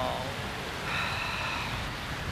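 Rain on the moors, a steady broadband hiss of falling rain mixed with faint wind, moderately loud and continuous with no talking.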